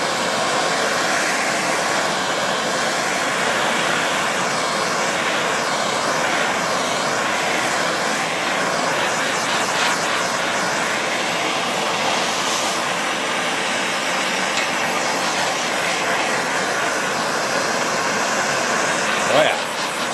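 A torch preheats thick steel plate for trailer welding, giving a steady, loud roaring hiss that runs unbroken close by.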